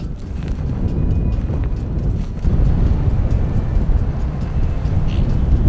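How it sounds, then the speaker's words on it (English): Strong wind on an African hunt buffets the microphone with a constant low roar and rumble, gusting harder partway through. "Too windy."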